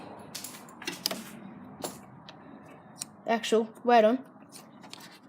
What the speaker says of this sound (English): I can hear fuses clicking.